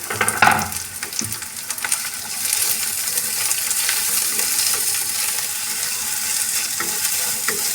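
Bitter gourd peels frying with garlic, ginger and onion for an aloo matar dish, a loud, dense, steady sizzle with stirring scrapes and a sharp clink early on, close and continuous.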